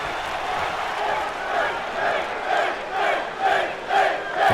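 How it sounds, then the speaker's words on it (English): A stadium crowd roars throughout a WWE 2K wrestling video game main event, a sustained wash of cheering that swells in rhythmic waves of chanting toward the end. "Crowd is definitely on Finn Balor's side in the first couple of moments here"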